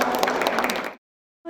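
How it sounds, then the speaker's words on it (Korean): Applause fills a university auditorium as elderly new students receive their student ID cards. Dense, lively clapping runs for about a second before cutting out into silence. "네, 큰 박수 부탁드리겠습니다."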